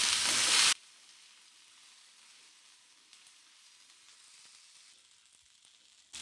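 Raw tomatoes fry in oil in a pan over a low gas flame, giving a faint, steady sizzle that runs alone after a brief louder burst at the start.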